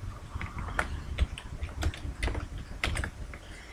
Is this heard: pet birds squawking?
no